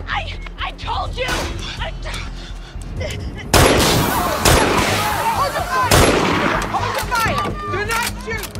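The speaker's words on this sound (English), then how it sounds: "Hold the fire. Do not shoot." Heavy gunfire erupts in a tense TV drama scene, a loud barrage of booming shots and rapid bursts growing denser partway through, with shouting voices mixed into the chaos.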